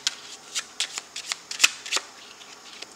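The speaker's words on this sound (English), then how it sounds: "let's pull a card from the Lover's Oracle" A deck of oracle cards is shuffled by hand, giving quick papery riffles and soft flicks in an uneven rhythm, close and fairly quiet, with no talking.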